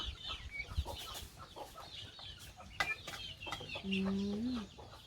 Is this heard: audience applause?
no